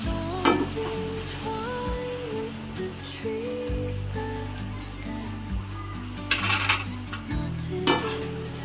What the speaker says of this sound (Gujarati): હવે આ ગોલ્ડન બ્રાઉન થાય ત્યાં સુધી આપણે આને તળી દઈશું.